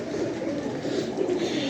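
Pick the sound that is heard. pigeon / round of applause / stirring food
pigeon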